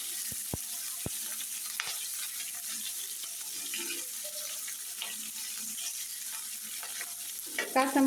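Green chilies frying with ginger in oil, a constant soft sizzle opened by a few sharp spatula taps, then quiet stirring and clinks near the end, heard close without talk.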